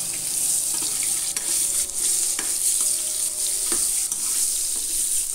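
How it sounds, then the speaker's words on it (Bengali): Mixed winter vegetables, including pumpkin, fry in mustard oil in a pan, a steady close sizzle running throughout with occasional scraping stirs of a spatula. "এতগুলো সবজি ভেজে নিচ্ছি"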